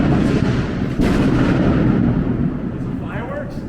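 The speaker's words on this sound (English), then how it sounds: "It's fireworks." A loud, booming burst of fireworks rumbles and fades over city streets in Manhattan, followed by softer crackling pops off in the distance, with voices faint in the background.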